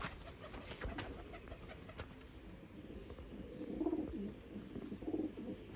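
Pigeons for sale at a bird seller's, cooing softly in a few low, brief calls amid quiet background rustle and noise.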